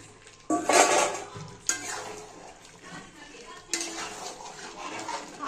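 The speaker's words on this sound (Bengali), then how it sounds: "এবার আলুগুলো দিয়ে দিচ্ছি।" Potatoes tumble into a pot of browned mutton, with a few clattering, splashing bursts and stirring scrapes over a soft sizzle, fairly close and fairly loud.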